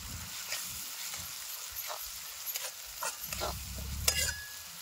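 Masala paste frying in a pan, a soft sizzle under repeated scraping and stirring strokes, fairly faint and close.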